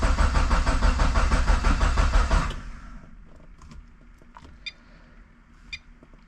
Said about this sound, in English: Let's just see if the car starts.